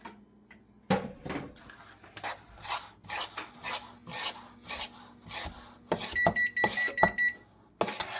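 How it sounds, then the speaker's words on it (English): Blueberry lemon thyme biscuit dough being mixed in a bowl, with repeated rubbing, scraping strokes in a steady rhythm, close by, and a few oven beeps near the end. "Let's mix it up."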